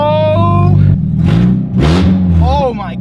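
A loud Mazda Miata engine running an open header revs hard and rough, rising and falling, with people talking over it.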